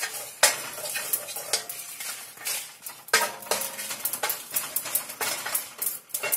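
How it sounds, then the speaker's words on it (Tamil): Chillies and cumin dry roasted without oil in a pan, with repeated scraping and clattering strokes of a metal spatula against the pan over a light sizzle, close and fairly loud, with no voices. "ஜீரகத்தையும் லேசா வதக்கணும்"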